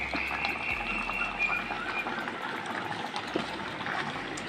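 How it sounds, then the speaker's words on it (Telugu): Ragi flour porridge simmers in a pot with a steady, soft bubbling and gurgling, close by and continuous, with no voices over it. "ఇందులో వేసి ఒక 10-15 నిమిషాలైనా ఉడికించాలి"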